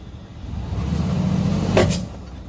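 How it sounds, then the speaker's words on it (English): On a 2013 Mercedes GL450 held on the brake in gear, the engine drones low and steady while the worn transfer case chain skips once, giving a brief sharp clunk near the end. "that is actually the transfer case chain that is skipping"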